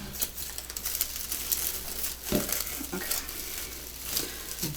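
Patriotic deco mesh being crinkled and tied into a saddle frame, with continuous close rustling and crackling and a few sharper crunches.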